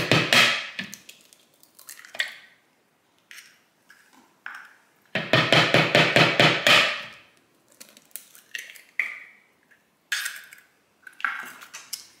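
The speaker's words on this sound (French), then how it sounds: "je commence par casser mes œufs dans le Tupperware" Eggs are cracked into a plastic Tupperware container for pancake batter: a close sequence of sharp cracks, taps and clattering shell sounds in separated bursts, with quiet gaps between them and no speech.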